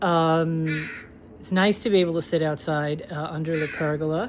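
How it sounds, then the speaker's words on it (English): Crows cawing outdoors near a backyard pergola, several harsh repeated caws at close to moderate distance, heard under and between a person's talking. "and you can hear the crows there."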